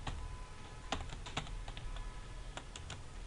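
Keystrokes on a computer keyboard entering country names into code, a scattered run of light clicks with short bursts and pauses, close and fairly quiet over a steady low hum.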